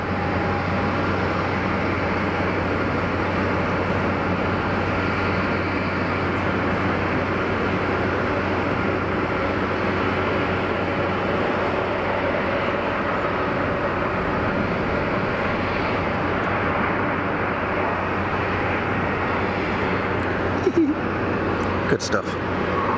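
An easyJet airliner coming in to land at Geneva Airport makes a steady, moderately loud engine rumble and roar that holds throughout, with a voice talking over it and a few brief clicks near the end.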